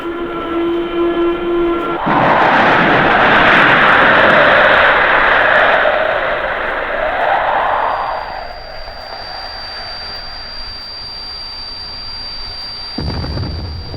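Radio-drama effect of an aircraft shot down and crashing: a loud, swelling roar surges in and fills several seconds, then fades to a thin, steady whine, with no voices.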